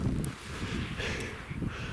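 Wind gusts buffet the microphone at a mountain campsite in the Chartreuse range near a pitched, guyed tent, a loud, rough, continuous rumble with brief rustles and no talking.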